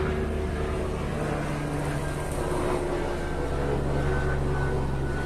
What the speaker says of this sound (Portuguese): Barulho de avião aqui chegando